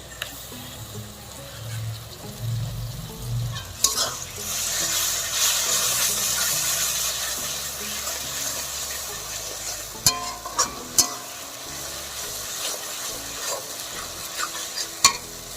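Onions that have been well browned sizzle in a pan as ginger-garlic paste goes in for a Bengali mutton curry, a steady frying hiss with stirring clatter and a few sharp utensil knocks.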